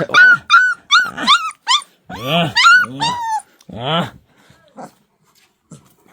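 Several puppies whimper and yip in high, wavering cries, close by and overlapping in bursts, then fading to quieter whines.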